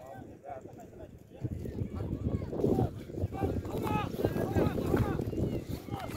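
Racehorses gallop in a 21 km alaman baige race in Bakaly village, Sarkan district, their hoofbeats drumming in a fast, distant rhythm beneath a commentator's excited, continuous voice.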